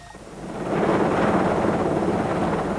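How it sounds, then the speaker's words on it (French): Airplanes take off at dawn, a deep roaring engine rumble swelling in loudness and holding steady, heavy and fairly close. "Au lever du jour, les avions décollent."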